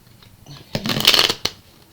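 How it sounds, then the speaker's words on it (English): A tarot card deck is shuffled by hand in one quick, close, crisp riffle burst that ends with a tap. "that shuffle was kind of messy"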